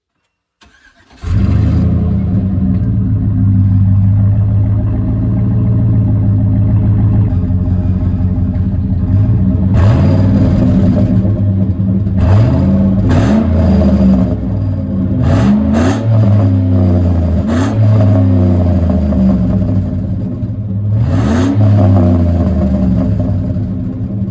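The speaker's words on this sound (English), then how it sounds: "Truck started" A pickup truck's big V8 engine cranks and catches, then idles with a deep rumble and is revved several times, loud and close, with no talk.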